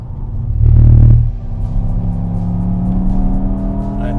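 Mercedes-AMG GT 63 S E Performance four-door coupé driving through a corner, a loud low engine surge at first that settles into a steady, continuous rumble and whir from inside the car.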